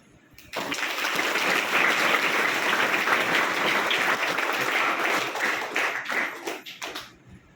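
School students applaud in a hall, a dense, loud burst of clapping that starts abruptly, holds steady for several seconds, then thins out into scattered claps.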